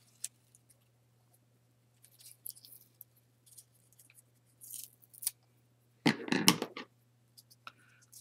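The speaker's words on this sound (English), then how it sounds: "Just snipping some of these annoying green things off." Scissors snip green bits off a layout, sounding as a few scattered light clicks and one denser burst of cutting near the end, close and fairly quiet against a steady low hum.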